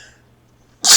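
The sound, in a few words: sneeze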